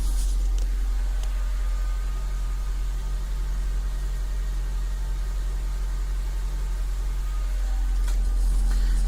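A 2006-2011 Honda Civic engine idles steadily after a remote start, a constant low hum with no talk over it.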